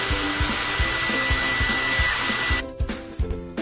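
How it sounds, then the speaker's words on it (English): A hair dryer in a pet grooming video game, heard as a steady whirring blow with a faint whine and regular soft clicking pulses, ending in a few short bursts. "Now let's use a hair dryer."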